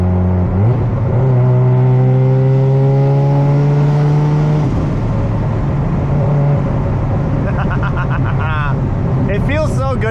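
Rotary engine of a Mazda RX-7 FD revving hard through the gears while driving, climbing whines dropping at each shift, loud and close, with wind and road noise and a voice speaking near the end.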